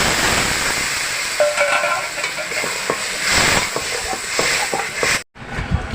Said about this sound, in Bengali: আমি এবার জল দেবো, মশলার জলটা দিয়ে দেবো।